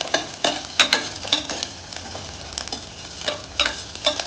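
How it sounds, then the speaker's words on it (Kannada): Onion and garlic frying in a pan as they brown, a steady crackling sizzle broken by several sharp scraping stirs and ticks, close and alone without talk. "ಚಿಟ್ಕೊಟ್ಟಿದ್ದಂತಹ 2 ಈರುಳ್ಳಿ ಮತ್ತು ಹಾಕ್ಕೊಂಡು ಬೆಳ್ಳುಳ್ಳಿ ಇದೆರಡು ಒಂಚೂರು ಫ್ರೈ ಆಗಬೇಕು, ಒಂಚೂರು ಬ್ರೌನಿಶ್ ಕಲರ್."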